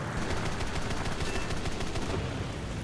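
Rapid, continuous aircraft cannon and machine-gun fire from a J7W fighter attacking bombers in a combat flight game, dense and loud, with fast repeating bursts that run without a break for the whole stretch.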